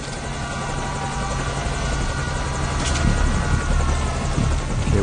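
A helicopter in the stealth game Metal Gear Solid V: Ground Zeroes flies at night, its rotor throbbing in a loud, steady drone that fills the scene without pause.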